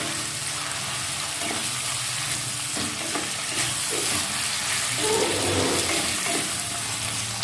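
Chopped onion and tomato fry in a pan over a low gas flame, a steady, close sizzle with a few soft scrapes of stirring and no voices.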